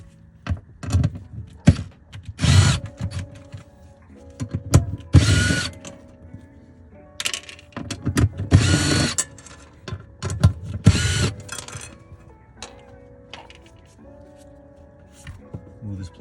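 A power tool spins off 10 mm bolts on a BMW E60 5 Series during fuel pump work, sounding as short whirring bursts separated by clicks, clatter and handling noises.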